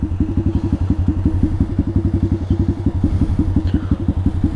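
Pit bike engine idling close by, a steady rapid chugging thump with even, repeating pulses and no one speaking.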